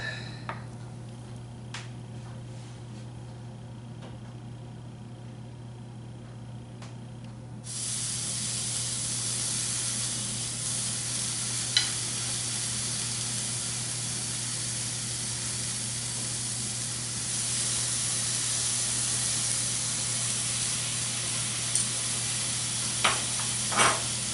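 Steady, loud sizzling of bratwurst frying in a hot skillet, a broad hiss that jumps louder partway through and continues with a few small clicks.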